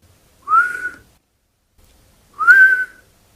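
Two drawn-out, high whistles of air breathed in through a damaged tooth, each lasting about half a second with a rising pitch, loud and very close, separated by quiet.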